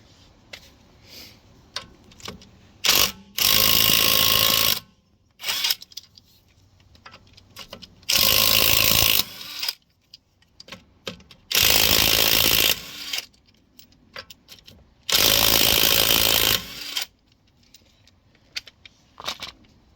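Power ratchet tools loosen the wheel on a BMW E92, firing four loud, close bursts of about a second and a half each, with quieter clicks and handling noise between them.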